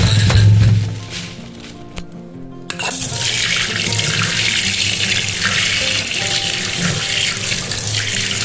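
Water runs steadily from a tap as freshly bought bananas and other fruit are rinsed in a home kitchen, a continuous hissing flow with a brief pause before it resumes and carries on to the end.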